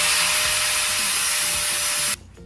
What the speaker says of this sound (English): So I'll just go with a flapper wheel and a grinder and just clean it off